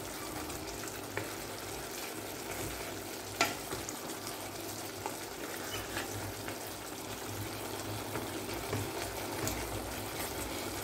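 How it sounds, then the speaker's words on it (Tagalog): Chicken and potatoes sizzle steadily while being stirred inside a rice cooker, a continuous close frying hiss with a few sharper scraping clicks and no talking. "buksan ang rice cooker, alisin ang mga itlog at kamatis, haluin ang niluluto."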